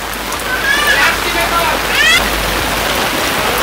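Continuous rainfall in a village courtyard makes a dense, even hiss, with a voice speaking over it now and then.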